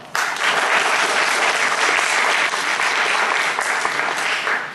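An audience at a presentation with an HTC executive bursts into steady, dense applause that starts abruptly and holds at an even volume throughout, with no voices over it.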